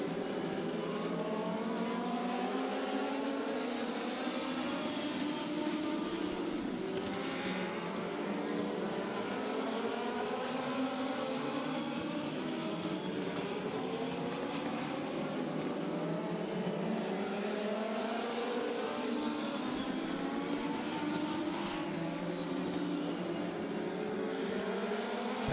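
Race cars lapping a track during qualifying heats, engines droning and rising and falling continuously as several cars circle past, steady and moderately distant throughout.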